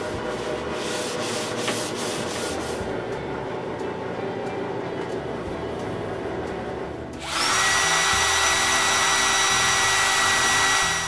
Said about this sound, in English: With a light sanding between the coats.